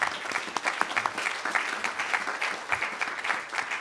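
Audience applause at a library author event, a dense, steady patter of many hands clapping at moderate volume without any voices over it.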